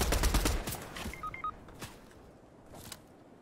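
Gunfire in a Fortnite match: a burst of rapid shots up front, then scattered single shots fading further off, with small electronic beeps partway through.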